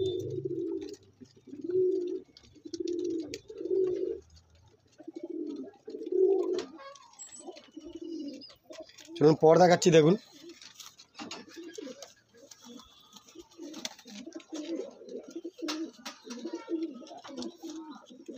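Andhra pigeons cooing in a series of low, rounded, evenly spaced coos, fairly close, with a louder burst of wing flutter midway and someone speaking briefly among the calls.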